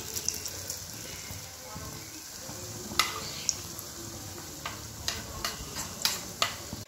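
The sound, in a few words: frying pumpkin leaf fritters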